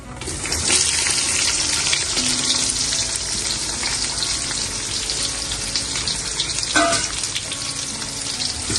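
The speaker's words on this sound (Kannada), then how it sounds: "ಸ್ವಲ್ಪ ಕಲರ್ ಗೋಲ್ಡನ್ ಕಲರ್ ಬರೋದು ಹುರ್ಕೊಳ್ಳೋಣ ಚೆನ್ನಾಗಿ" Four large onions frying in oil with whole spices for chicken dum biryani, a steady close hiss and sizzle running the whole time with a brief louder crackle near the end.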